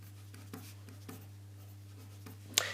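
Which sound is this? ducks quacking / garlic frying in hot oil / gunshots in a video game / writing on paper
writing on paper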